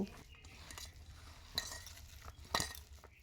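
Pakora batter being mixed by hand or spoon with small additions of water in a bowl, a soft wet stirring with a few utensil clinks against the bowl, close and fairly quiet, no talking.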